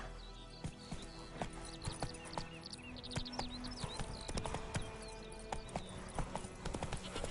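A horse named Roach walks, its hooves clip-clopping in a steady uneven rhythm, close and clear, with scattered creaks and bird chirps faintly in the background.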